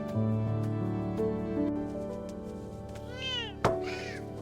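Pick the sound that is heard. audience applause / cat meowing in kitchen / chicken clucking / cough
cat meowing in kitchen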